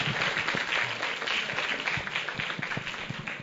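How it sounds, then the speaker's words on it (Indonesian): An audience applauding at an indoor gathering, steady massed clapping from many hands that holds evenly throughout at moderate loudness. "Beri aplaus untuk Pak Julisar"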